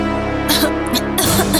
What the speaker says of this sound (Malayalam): അങ്ങോട്ട് മാറി നിന്ന് ചുമക്കടി.